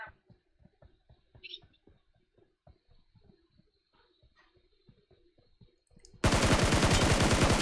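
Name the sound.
gunfire in video game PUBG Mobile, SCAR-L spray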